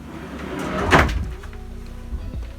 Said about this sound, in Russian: И плавный заезд ящика.